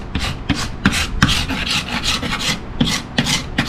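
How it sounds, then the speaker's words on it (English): Wood being scraped hard to strip varnish after applying stripper, rhythmic rasping strokes repeating about twice a second, close and loud, with no voices. "Having to scrape much harder,"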